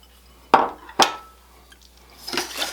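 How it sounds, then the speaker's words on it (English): Quick oats tipped into a bowl of finely chopped butter for caramel apple cheesecake bars, giving two sharp clinks against the bowl followed by a softer scraping rustle, close and otherwise quiet. "I'm going to add a 1/2 cup of quick oats"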